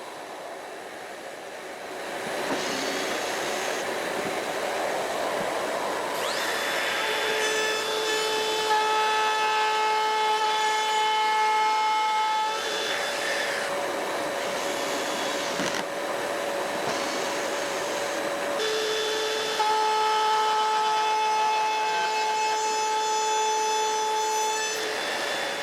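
A plunge router cuts a slot in wood with a dovetail jig, a loud sustained whine after a short quiet start, its pitch shifting as the bit moves through the wood, close up and alone.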